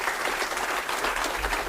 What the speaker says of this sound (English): I think we should give a massive round of applause.